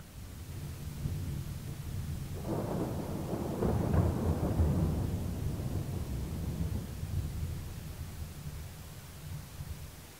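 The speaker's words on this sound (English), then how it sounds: "That was a big rumble of thunder." A big, deep rumble of thunder during a storm rolls in around the middle and swells loudly for several seconds before fading back into steady wind and rain-like hiss.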